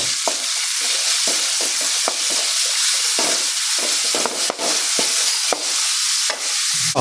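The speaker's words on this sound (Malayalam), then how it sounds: "ഇഞ്ചി വെളുത്തുള്ളിൻ്റെ പച്ചമണം ഒന്ന് മാറിക്കിട്ടോളം ഇളക്കി കൊടുക്കുക" Ginger and garlic frying in a pan with small onions while being stirred for a beef curry, loud close sizzling broken by repeated scraping strokes of the spoon, no voices.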